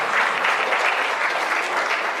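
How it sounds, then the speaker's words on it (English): Dense, steady clapping from a summer camp event audience, loud and continuous throughout with no pauses. "All of you should give a big clap."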